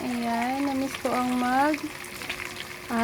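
Fish frying in a pan gives a steady, soft sizzle across the whole clip, largely under a voice talking over it.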